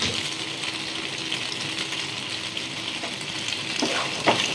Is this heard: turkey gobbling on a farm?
no